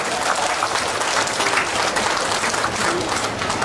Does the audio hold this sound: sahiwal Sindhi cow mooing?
no